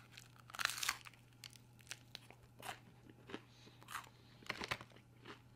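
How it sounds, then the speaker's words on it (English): Crunching bites into leftover overnight Korean fried chicken with a still-crisp coating, a string of close, sharp crackling chews and tears spread across several seconds, loud at first then in quieter bursts, with no talking. "The outer shell, still crunchy like I'm munching on really airy, cheesy popcorn."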